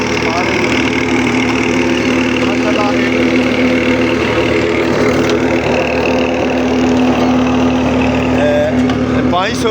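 A tractor engine runs loud and close at a steady idle, driving a machine shaft and belt with a continuous deep hum and vibration while people talk over it.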